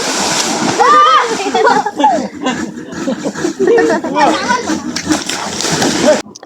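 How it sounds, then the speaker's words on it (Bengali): Children splash and play while bathing in water outdoors with their father, with close, lively sloshing and splattering under constant excited chatter and laughter. "আপনাদের ভাইয়া ছেলে মেয়েদের নিয়ে কতটা আনন্দ করতেছে আর গোসল করতেছে"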